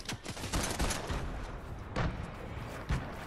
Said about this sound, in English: I'm being shot at from both directions